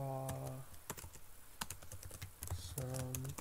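Typing on a computer keyboard: rapid, close key clicks in an uneven burst, with a tonal hum in the background at the start and end.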